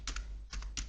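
Keys clack on a computer keyboard during Microsoft Word work: three crisp, close keystroke bursts, two quick taps, another after a pause, then a final tap, with no speech.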